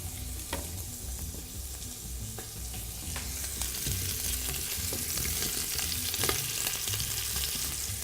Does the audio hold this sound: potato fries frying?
yes